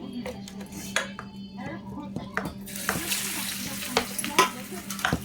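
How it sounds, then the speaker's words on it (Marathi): Vadas dropped one after another into hot oil, sharp splashes and clinks of utensil against the pan, then a loud continuous bubbling sizzle once they are in, close and busy with light background noise. "तर आता मी टाकत आहे मस्तपैकी वडे. हे बघा वडे टाकते आता."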